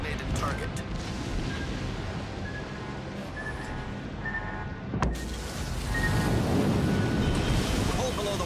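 Warship guns boom in World of Warships: Legends over a constant rumble of sea and engines, with one sharp, loud blast standing out and voices talking throughout.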